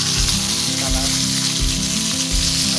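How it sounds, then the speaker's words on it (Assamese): Whole fish frying in hot oil for an Assamese fish curry, giving a steady, close sizzle with a low bubbling rumble and occasional pops, with no voices. "এয়া সম্পূৰ্ণ মাছ ভাজি থকা হৈছে।"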